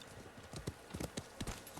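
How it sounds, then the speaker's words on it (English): Horse hooves clip-clop in a quick, uneven trot in the video game Ghost of Tsushima, several crisp strikes over a couple of seconds, fairly quiet against a soft background. "Horse!"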